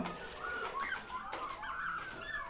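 Turkeys on a farm give a run of warbling, gobbling calls at moderate distance, rising and falling over a steady ambient hum with no talking.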